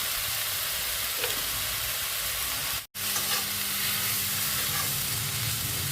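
Continuous sizzle of pumpkin stem frying in a pan, a steady hiss broken by one brief silent gap.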